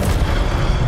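A short, loud, rumbling whoosh and boom from an Incendio fire spell cast in Hogwarts Legacy, lasting under a second with a dense, roaring texture.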